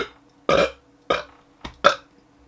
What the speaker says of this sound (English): I'm just burping.